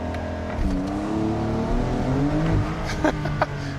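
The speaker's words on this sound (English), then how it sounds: "That was 0 to 60 kilometers, just like instantaneously." A Porsche 911 Targa 4S in Sport Plus mode launching hard from a standstill, engine note rising steadily as it accelerates, loud and close with no talking over it.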